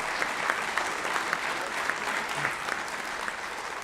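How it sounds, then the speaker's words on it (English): An audience at a sports hall of fame induction ceremony claps for producer Bill Clark, a steady round of applause from a roomful of people, moderately near, with no one speaking over it. "A round of applause for Bill Clark."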